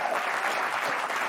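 A studio audience claps steadily during a late-night political comedy show, a dense, even burst of applause heard alone.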